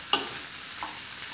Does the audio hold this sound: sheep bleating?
no